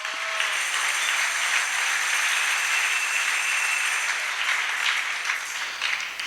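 A church congregation claps in sustained, dense applause that fills the room steadily throughout, with no break.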